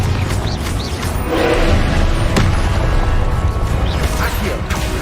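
A Confringo spell explodes in the game Hogwarts Legacy, a loud booming blast that sits within a dense, continuous rumble of spell-combat effects.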